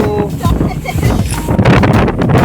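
Strong gusty wind buffets the microphone, with low rumbling roar and voices talking over it.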